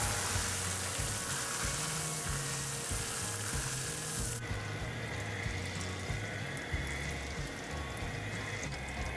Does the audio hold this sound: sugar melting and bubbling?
yes